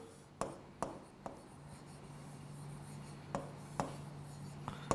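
Pen or marker tapping and scraping while an energy level diagram is drawn, a few sharp isolated taps spread out over a quiet, faintly humming background with no talking.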